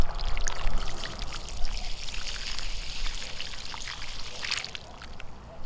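Water pouring and trickling steadily close by into a planting hole for a dwarf mountain pine, a continuous splashing flow with no talking.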